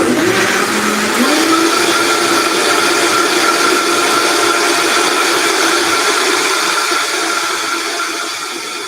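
A blender running on low speed with its smaller container attached, a loud steady whirring motor that rises in pitch at the start and holds for several seconds, no talking over it.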